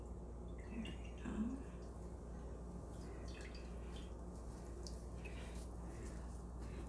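Water drains and drips through freshly washed fabric marked with washable marker, faint scattered drips and trickles over a low steady hum, with a brief soft voice.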